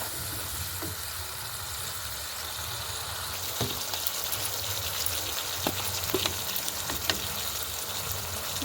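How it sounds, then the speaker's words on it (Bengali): Fish frying in oil with yogurt, a Bengali doi katla curry, sizzling steadily in a pan; a continuous close hiss with occasional light clicks of a spatula stirring, no voices. "দইটা দিয়ে আবার ভালো করে কষাবো।"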